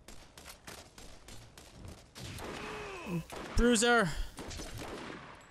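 Gunfire rattles in the video game Borderlands, with bursts of shots and a stretch of heavy firing mixed with whooshing effects, and someone speaks briefly over the game audio.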